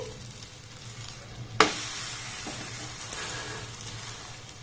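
Mango and semolina roti fries on low flame in a lightly oiled pan, a soft steady sizzle that jumps to a louder hiss after one sharp contact sound and then holds steady, with no voices.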